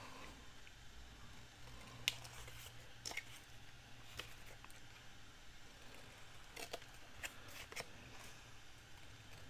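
Paper corners being trimmed with scissors for a Mother's Day flower pot purse craft: a few faint, sparse snips and crisp paper rustles over quiet room noise, with no talking.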